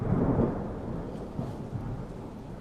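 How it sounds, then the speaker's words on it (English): A low, rolling rumble of thunder, fairly loud and continuous, with a heavier swell early on and a softer, uneven grumble fading through the rest of the clip. "I hear thunder."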